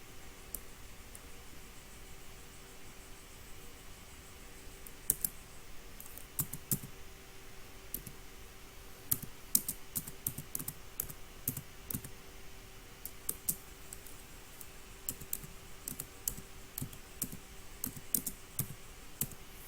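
Someone types on a computer keyboard, producing quiet, irregular key clicks that are sparse at first and then come in quicker clusters, over a faint steady hum.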